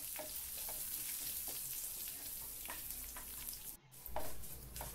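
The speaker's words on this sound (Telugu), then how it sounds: "వేగిన తర్వాత 2 ఎండుమిర్చి అలాగే కొద్దిగా కరివేపాకు వేసుకొని వేపుకుందాం." Dry red chillies and curry leaves fry in hot oil over a low flame, giving a steady close sizzle with a few soft stirring scrapes and a brief dip near the end before the crackle swells again.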